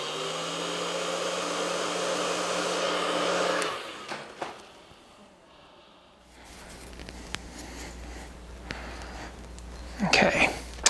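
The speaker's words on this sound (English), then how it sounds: "use your blow dryer" A steady whirring blow dryer runs loudly for several seconds, then cuts off, followed by quieter handling noises and a low rumble.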